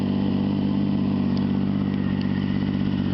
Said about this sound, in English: It's the Extremeblaster pipe on a Triumph 955i Sprint.